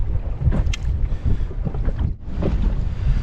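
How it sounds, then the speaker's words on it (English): Wind gusting over open water at an Australian fishing spot, a loud, rumbling buffeting roar against the microphone with a brief lull near the end, no talk. "That wind's just starting to come up now"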